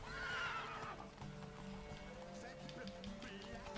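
Horse neighing and clip-clopping hooves from the video game The Witcher 3, a whinny up front followed by steady hoofbeats at moderate volume, with a brief louder burst at the very end.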